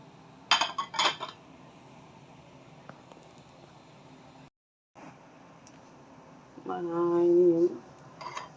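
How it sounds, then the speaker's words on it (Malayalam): Chunks of elephant yam, then pumpkin, dropped into a cooking pot for an erissery, making a few sharp clattering knocks against the metal, followed later by a scraping, clinking stir. "ആദ്യം ചേന ഇട്ട് കൊടുക്കുന്നു പിന്നെ മത്തങ്ങ ഇട്ട് കൊടുക്കുന്നു"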